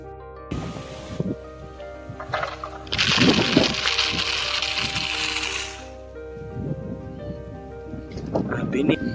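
Steady rain hisses outdoors over a farm field with guava and papaya trees, swelling into a heavier downpour midway, while people talk and call out over it.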